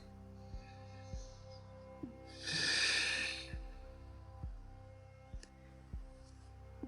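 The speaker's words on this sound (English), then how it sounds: "One more deep breath." One deep breath during a yoga session rushes out as a soft, airy exhale lasting about a second, close to the mic, while steady light ticking taps along in the background.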